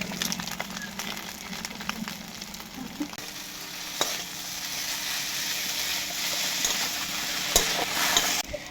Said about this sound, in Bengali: এবার বন্ধুরা ম্যাগি নাড়ছি